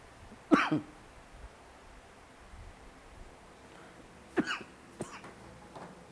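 A man with a cold gives a sharp cough near the start, then two or three quieter coughs or throat clearings a few seconds later, faint against a low room hiss.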